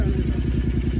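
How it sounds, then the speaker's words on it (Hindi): A newly bought second-hand motorbike engine idles close by with a steady, rhythmic low thumping that stays even and fairly loud for the whole moment. "फिर हमने सुनी इसकी साउंड नोट, बहुत ही प्यारी बाइक थी।"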